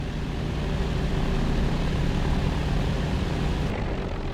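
A propeller aircraft taxis slowly toward the dispersal at an airfield, its engine a steady, continuous drone that holds at an even level throughout, with no voices.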